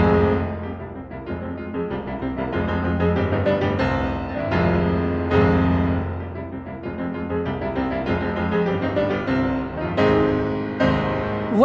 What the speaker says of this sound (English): What you're hearing is Beethoven's Appassionata.